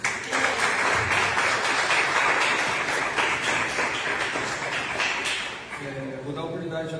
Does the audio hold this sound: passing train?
no